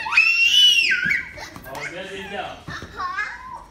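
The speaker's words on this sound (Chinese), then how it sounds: "不可以尖叫" A two-year-old toddler shrieks loudly and close up during play, a long high-pitched scream followed by shorter squeals and excited vocal bursts.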